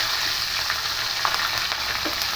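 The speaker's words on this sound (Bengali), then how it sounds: "কাঁচা পাকা লঙ্কা চিরেছি এগুলো ফোড়ন দেবো" Slit green and red chilies tempering in hot oil with black cumin and whole cumin seeds, giving a steady, dense sizzle and crackle throughout with faint pops and no talking.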